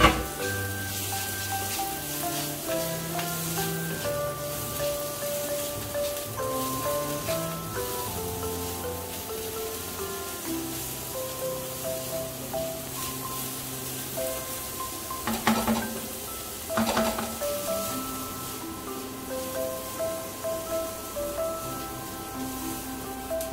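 Capsicum frying in a pan, with a steady sizzle that runs throughout while it is stirred, and occasional louder clatters from the stirring close by.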